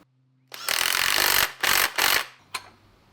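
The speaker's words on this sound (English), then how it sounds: "Now we can just tighten up this nut on the end," A 19mm nylock nut is tightened on the end of a new Suzuki Jimny steering damper: three close, loud bursts of ratcheting, grinding tool noise, then a short final click after a pause.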